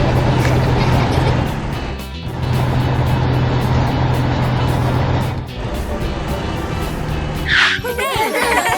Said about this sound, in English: Now it's time for the dump truck and the crane truck to head back to their base.